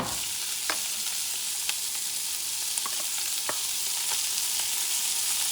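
Cooked fish sizzling gently in a pan over lower heat for fish fried rice, a steady soft frying hiss with faint scattered pops and stirring clicks.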